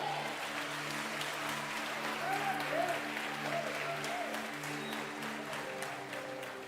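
Congregation applauding during a church sermon, a steady wash of clapping held at an even level throughout, with sustained low organ or keyboard tones running underneath.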